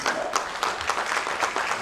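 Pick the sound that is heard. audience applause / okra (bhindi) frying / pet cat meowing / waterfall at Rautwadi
audience applause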